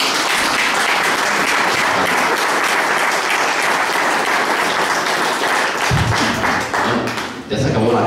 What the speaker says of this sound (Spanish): Aplausos a Jesús